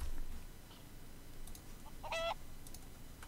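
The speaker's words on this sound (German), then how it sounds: "Was macht ein Huhn hier unten drin?" A chicken clucks once in a short burst in an underground mine in the game Craft the World, set against a quiet background of game ambience, with no speech.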